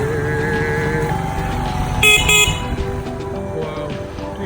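A vehicle horn toots a short double blast amid busy Lahore street traffic, heard from a motorcycle, with engine drone and other road noise running underneath.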